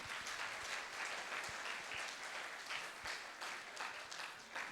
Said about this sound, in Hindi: एक बार शानदार ताली बजाएंगे साथियों